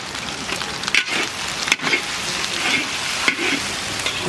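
Onion with ginger and garlic frying in a pan in a village kitchen, a dense close sizzle with stirring scrapes and a few sharp knocks against the pan.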